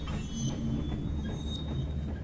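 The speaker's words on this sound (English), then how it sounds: "we have here the train rounding a bend into a tunnel" Train in the Poptropica game rounding a bend into a tunnel, a continuous rumbling roll with a thin high wheel squeal running throughout, close and steady, with no talking.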